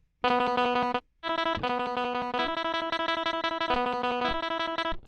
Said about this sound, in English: And then the yellow ones are tremolo slide.